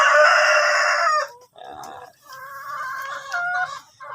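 Black Australorp chickens on a Philippine farm: a loud, close rooster crow opens, followed by clucking and further crowing calls in uneven bursts.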